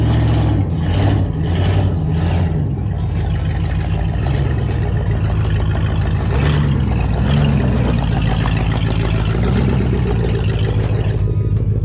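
An old, run-down Dodge truck's engine idles loudly up close with a steady low rumble, a few revs and rattles, no talking over it.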